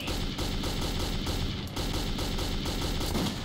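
A gun fires in the video game Metro 2033, loud rapid shots in a dense steady stream, close and continuous for several seconds with no voice over it.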